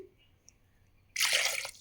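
Water poured onto toor dal with green chillies for Andhra-style pappu bachali curry: a short, fairly loud splashing gush of about half a second breaks a near-silent kitchen.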